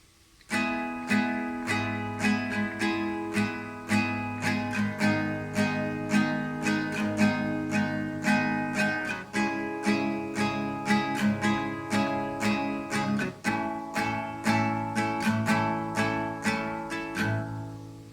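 Steady rhythmic strumming of an acoustic guitar, chords ringing close and even, changing every few bars with a regular down-up pattern.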